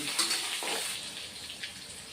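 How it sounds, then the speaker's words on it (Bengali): Potatoes frying in a pan over a lowered flame give a soft, steady sizzle with a few faint stirring scrapes, quiet and close, with no voices. "আলুটা ভাজবো হাতটা কমিয়ে রেখেছি"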